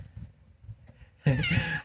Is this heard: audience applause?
no